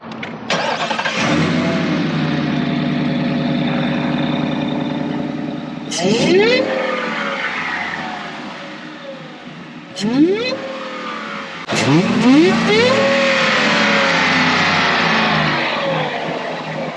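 A supercharged 2021 Ford F-150's V8 engine with a Whipple supercharger cranks and catches, then revs hard several times with a whining, rising mechanical tone, loud and close throughout.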